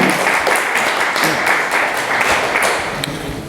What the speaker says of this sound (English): let's give a round of applause for Dane.